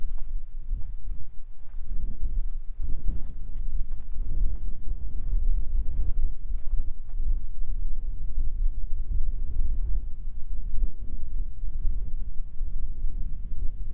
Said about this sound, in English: Wind's gonna blow my hat off.